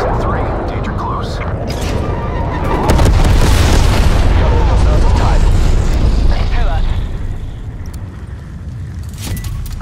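Napalm strike in Call of Duty Black Ops Cold War, a loud rumbling roar of explosions swelling midway and holding for a few seconds before easing back into lower battlefield noise.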